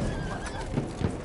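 A horse in a PS4 video game gives a brief, close whinny, mixed with clip-clopping hooves and a few heavy thuds, over a busy game soundscape.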